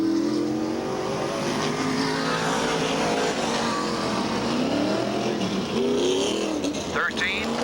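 A 1988 NASCAR Modified race car laps the Riverside Park track. Its loud, continuous engine drone rises and falls in pitch as it works through the lap.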